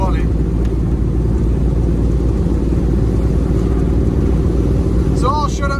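A Foden truck with a Cummins engine and straight pipe drones down the road, a loud, continuous low-pitched engine rumble with steady road noise throughout.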